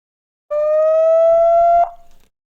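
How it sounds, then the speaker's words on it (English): A VIMTAG pet camera's built-in alarm sounds a single steady electronic tone for about a second and a half, loud and close in an otherwise quiet room, then cuts off abruptly. "you hit the bell right here, and you can hear the alarm will go off like this."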